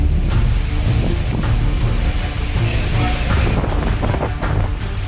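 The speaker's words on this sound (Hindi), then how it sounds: "तूफानी हवा मानो पेड़ों का इम्तिहान ले रही हो।" Strong stormy wind sweeps through Bhadrak, Odisha, ahead of Cyclone Amphan, roaring loudly and continuously with gusty surges buffeting close to the microphone.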